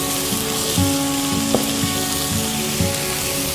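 Ridge gourd, okra, eggplant and potato fry in a pan with a loud, dense sizzle, while a low mechanical hum pulses in a regular rhythm beneath it and a single short clink sounds partway through.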